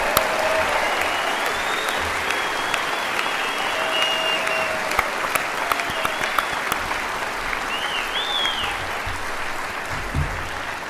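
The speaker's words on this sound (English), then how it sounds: "Let's have a round of applause for these graduates." Sustained applause from a large crowd at a university convocation ceremony honouring bachelor's degree graduates, a dense steady clatter of clapping filling the hall at full volume throughout, with faint voices and a few whoops.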